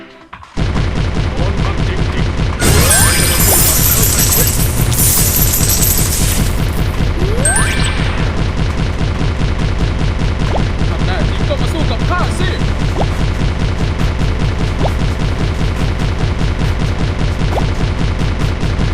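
Unlimited cannon fire in an online fish-shooting arcade game, a dense, loud, rapid stream of repeated shots with electronic game effects and chimes layered on top throughout.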